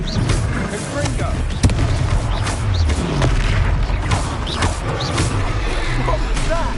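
Explosive spell bursts in the Hogwarts Legacy video game: a loud booming impact amid a dense, continuous wash of battle noise and crackling effects, with a sharp transient near the middle.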